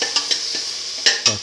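Fenugreek leaves and salt tumble into a hot frying pan and are stirred, giving a steady sizzle with a few sharp utensil scrapes and taps against the pan.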